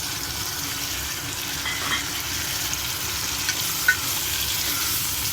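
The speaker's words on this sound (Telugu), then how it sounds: "టమాటోస్ వేసుకుంటున్నామండి." Tomatoes sizzle in a frying pan as an even, moderate hiss, with a few faint stirring scrapes and small pops.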